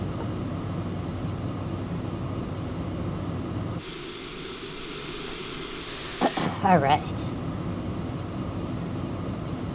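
Airplane passing by, heard from outside the aircraft near a runway in Microsoft Flight Simulator 2020: a steady engine hum gives way to a loud, broad roaring hiss as it goes past, with a short spoken word near the end.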